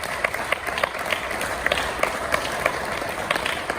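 Church congregation applauds during a Christmas sermon, a steady patter of many hands clapping at moderate distance, fairly soft, with brief crowd murmur.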